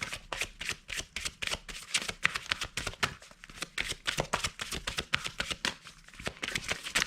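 Tarot cards are shuffled in a fast, continuous riffling patter, close and crisp, running steadily for several seconds with no voice.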